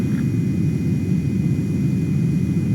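Steady engine drone of an aircraft on landing approach in Ace Combat 7, a continuous low rumble with a faint high whine, unchanging and close throughout.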